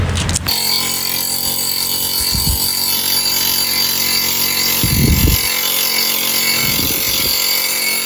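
An angle grinder grinding down material in an outdoor setting in Gabon, holding a steady loud whine with a few heavier low bursts as the disc bites, and no talk over it.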